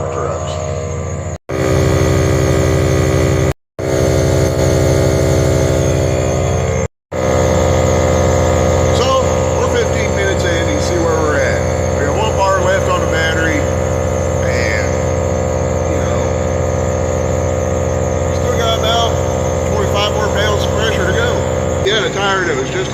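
A Milwaukee medium-duty tire inflator hums and drones steadily while pumping up a nearly flat semi-truck tire, with brief cutouts early on and faint background talk.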